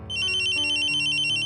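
A mobile phone ringtone plays a bright, steady electronic melody with repeating high tones, loud and close, with no voices over it.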